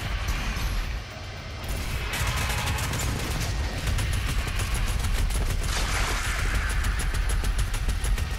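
Dense gunfire rattles through DOOM Eternal combat, continuous rapid shots and crashes mixed with heavy game noise, loud and unbroken for several seconds.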